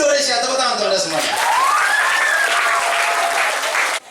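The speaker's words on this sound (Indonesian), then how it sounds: "Tepuk tangan untuk Anda semuanya." An audience at a school Ramadan program at SMP Negeri 1 Putussibau in Kapuas Hulu, West Kalimantan, Indonesia, applauds loudly and steadily for about four seconds, with a voice partly audible through the clapping.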